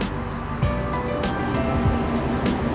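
Water pours and splashes onto completely dried-out soil in a patio container, a steady rushing wash with irregular gurgles and spatters, close and fairly loud, with no talk.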